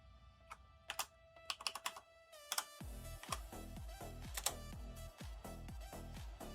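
Keys on a computer keyboard click in quick, uneven bursts, close and crisp, with a pause before a denser run of taps picks up and continues steadily.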